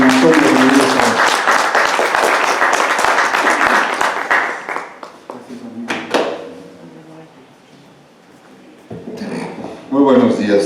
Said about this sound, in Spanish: Démosle un fuerte aplauso, por favor, al doctor Daniel Antonio Rodríguez Araiza.